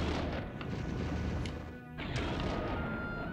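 Explosions in the game Blood Omen: Legacy of Kain: dense, loud rumbling crashes and booms that run nearly continuously, briefly dip, then surge again.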